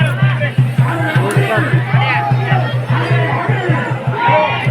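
Dense crowd chatter from a packed devotee queue at Shree Vithoba temple in Digras, many overlapping voices close by with a steady low hum underneath.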